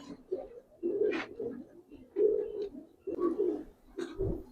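Pigeons coo repeatedly in a loft of Palla line pigeons, soft throaty calls rolling in several overlapping bouts, close and fairly quiet, with no talk.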